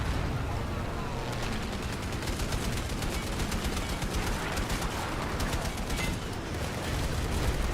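Rapid, sustained automatic gunfire in the video game Rainbow Six Siege, a dense continuous stream of shots filling the whole stretch, loud and close, with faint bird-like chirps in the background.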